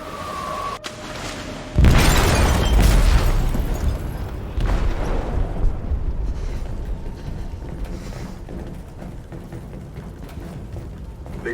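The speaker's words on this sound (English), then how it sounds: "They detonated an explosive in the hold." A loud boom bursts inside a ship's hold in the game Detroit: Become Human, followed by a long rumbling, creaking wash of debris and mechanical groaning that slowly fades.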